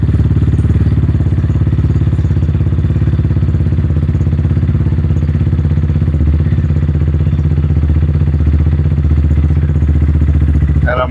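A motorcycle engine runs loud and close in a steady low idle rumble while the clutch is slowly let out, the tone holding even throughout with a faint shift near the end.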